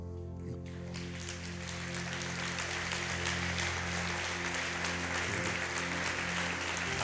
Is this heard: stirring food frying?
no